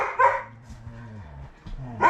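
Puppies bark indoors, two sharp barks opening and closing the moment with low whimpering between, close and moderately loud.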